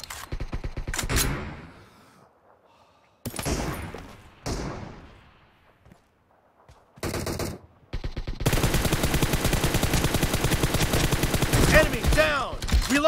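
Gunfire in PUBG Mobile's arena training warehouse: sharp bursts of shots separated by quiet gaps, then a dense, continuous stretch of rapid automatic fire with echoing impacts, loud and up close.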